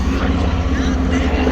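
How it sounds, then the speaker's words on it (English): A steady, loud mechanical engine drone with a low rhythmic throb, like a helicopter passing close overhead, with no pauses. "Helicopter."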